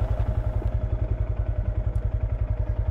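Honda Grom motorcycle ridden before a storm, its small single-cylinder engine thumping in a fast, even pulse close up, with a steady rhythmic putter throughout and faint wind around it.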